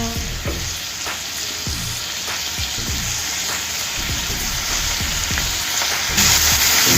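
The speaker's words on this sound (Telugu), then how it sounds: "హై ఫ్లేమ్ మీద పెట్టి వేయించుకోవాలి." Mixed vegetables fry on a high flame for curry, giving a loud, continuous crackling sizzle with frequent scraping stir strokes from a spatula, close up and without any talk.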